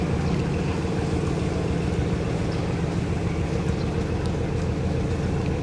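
Wooden boats and a large barge move along a river, their engines producing a steady, continuous low rumble and drone with water wash, close and loud throughout.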